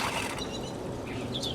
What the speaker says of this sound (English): And move the handle over the rinse.